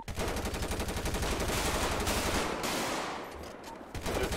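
Rapid, dense gunfire erupts in a GTA roleplay shootout on Grove Street, with a sustained barrage of overlapping automatic shots that thins briefly near the end before resuming.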